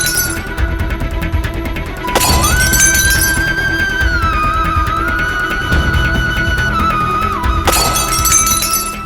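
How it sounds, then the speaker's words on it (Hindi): Glass shattering in a Hindi TV drama, two sharp crashing bursts over a sustained musical tone, loud and close. "ऐसा लग रहा है जैसे कहीं शीशा टूटा हो"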